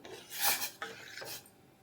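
Vermicelli is stirred into milk in a pot for mango kheer, giving a few soft rasping, scraping strokes against the pan, close and fairly quiet.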